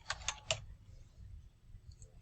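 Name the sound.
typing on a computer keyboard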